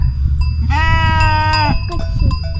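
Sheep and lambs on an Austrian mountain pasture near the Grossglockner bleat loudly and close by in one long wavering call followed by shorter cries, over steady outdoor rumble and with no voices.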